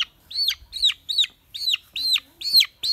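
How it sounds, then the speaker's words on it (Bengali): A local rooster chick at a maize field gives a run of seven sharp, high-pitched chirping clucks in a steady rhythm, each short and clear, close to the microphone with little else around. "এটা মোরগের বাচ্চা দেখেন"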